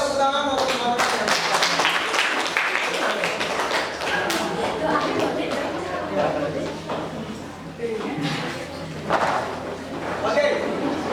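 A classroom of students clapping together, a dense burst of applause that runs steadily for several seconds, close and lively, with a teacher's voice heard over it.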